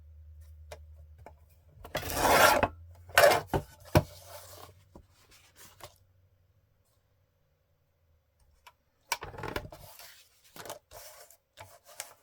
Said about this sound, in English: I'm going to use my decal edge trimmer